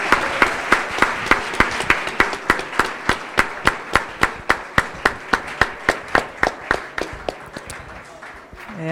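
An audience at the close of a panel on new forms of audiovisual production claps together in a steady, rhythmic unison beat. The claps are loud and evenly spaced, roughly two to three per second.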